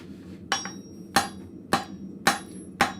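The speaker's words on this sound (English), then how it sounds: "we'll get your switch back on the anvil, and we'll get these guys finished off." A blacksmith strikes metal on an anvil in a forge shop: five sharp, ringing hammer blows land at a steady, unhurried pace, close and alone against a faint background hum.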